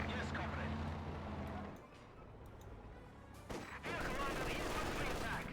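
Battlefield gunfire from Company of Heroes 2, Wehrmacht against Soviet conscripts and guards, crackles under a continuous commentator voice, with a dense burst at the start and the volley swelling again toward the end.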